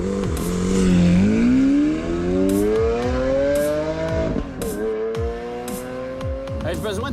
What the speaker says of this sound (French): une voiture de 740 chevaux, la version S de l'Aventador, mais en plus, avec le soleil, la version découvrable